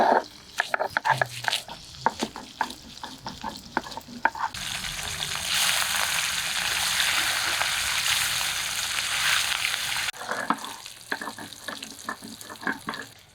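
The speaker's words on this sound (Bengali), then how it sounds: "এই কড়াইয়ের মাছ ভাজা হচ্ছে" Pabda fish fry in hot oil in a wok, with a broad steady sizzle in the middle stretch bracketed by clattering stirring and kitchen knocks.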